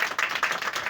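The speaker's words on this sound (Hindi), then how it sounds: "ताली बजा देंगे इसके लिए" A congregation claps together during a church worship service, a dense, steady patter of many hands that carries on evenly for a moment with no voices over it.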